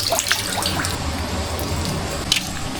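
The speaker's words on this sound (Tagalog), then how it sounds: "Atin lang po ibubuntog ito sa tubig para malinisin po." A crab, tied up with string, is dunked and swished in water at a fishpond to clean it, giving steady close sloshing and trickling with a few splashy drips throughout.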